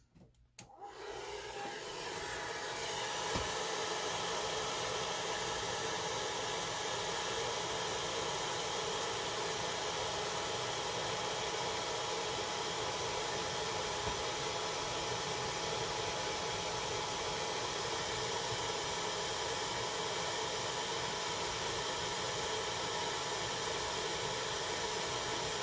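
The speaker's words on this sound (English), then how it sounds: "get the hairdryer." A hair dryer, used to dry paint on a small HO scale model figure, starts up with a click and then blows continuously, a loud steady whooshing hum that runs on without pause.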